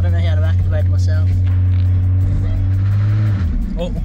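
Toyota Supra fitted with an aftermarket exhaust roars loudly and steadily close by as its wheels spin, a deep constant engine drone that drops off near the end, with people talking over it.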